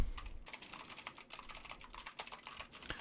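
Computer keyboard typing picked up by a Fifine T669 microphone: a quiet, rapid run of close keystroke clicks, fairly even in rhythm, with no talking.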